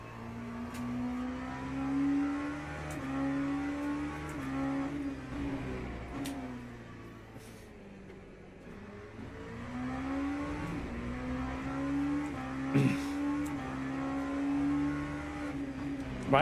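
GT3 race cars in the video game Le Mans Ultimate, engines revving and shifting through gears in repeated rising whines, steady and moderately loud throughout with a few brief clicks.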